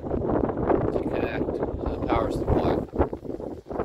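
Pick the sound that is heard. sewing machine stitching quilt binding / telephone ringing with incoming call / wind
wind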